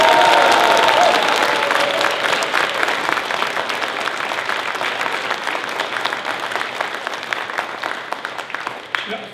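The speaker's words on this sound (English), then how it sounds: "Would you please give them a big round of applause?" Audience applause at a Peter Dutton election campaign launch in Tasmania, a loud, dense burst of clapping from a crowd that starts strong and gradually thins over about nine seconds.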